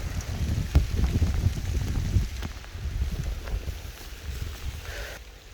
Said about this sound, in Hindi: बारिश आ गई भाई तेज़।